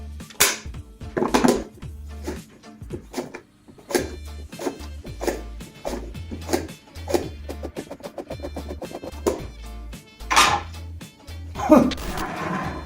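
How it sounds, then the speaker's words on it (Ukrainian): A kitchen slicer cuts through zucchini in a steady run of sharp, close clicks and thuds, with a few louder clacks mixed in. "Ну і наостанок спробую нарізати кабачок слайсами."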